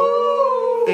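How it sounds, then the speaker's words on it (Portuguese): A dog howls in one long, steady, tonal wail that holds its pitch and ends with a brief rougher yelp, close and fairly loud. "Late coração, cachorro."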